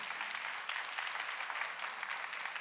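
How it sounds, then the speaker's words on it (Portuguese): A church congregation at a Thursday adoration service in Cachoeira Paulista claps together, a dense, steady burst of applause that fills the space throughout. "Vamos dar mais uma salva de palmas para Jesus Eucarístico."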